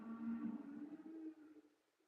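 Cows low at a cow farm at night in a single drawn-out, droning moo that fades toward the end. It is faint and distant, with no one talking.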